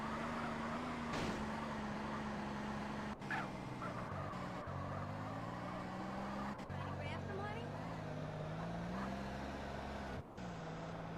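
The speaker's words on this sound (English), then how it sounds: "Got a little bit carried away here with this car, but it's drifting very nicely on the turns" A car in GTA San Andreas drives and drifts through turns, a steady engine drone shifting pitch as it slides, heard under continuous background noise.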